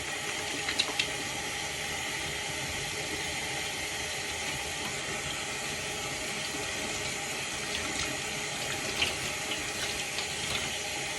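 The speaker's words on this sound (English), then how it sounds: "I'm going to start by washing my hands." A sink tap runs steadily, water splashing continuously as hands are washed beneath it, a constant close hiss with no speech.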